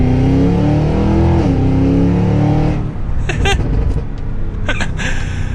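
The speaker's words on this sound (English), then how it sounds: "Let's do one last acceleration here from second." A 2023 Cadillac Escalade V pulls hard from second gear, its engine note rising steadily in pitch for a few seconds, then giving way to a rougher, noisier rumble with brief clicks. The sound is loud and close, with no talking.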